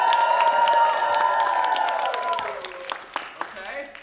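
A year 11 school assembly audience cheers and claps, a loud dense crowd roar with shouting voices that thins out toward the end into scattered claps and calls.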